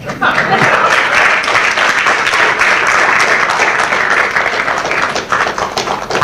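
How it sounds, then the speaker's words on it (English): Audience applause at a talk on soil and food security, dense steady clapping filling the whole stretch with some voices mixed in. "As you are clapping your hands"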